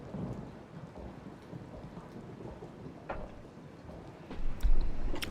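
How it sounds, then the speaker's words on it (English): Thunder cracks from an electromagnetic storm in the video game Megabonk, rumbling over steady rain-like noise, with a louder, heavier boom toward the end. "Beware the lightning strikes if you're outdoors."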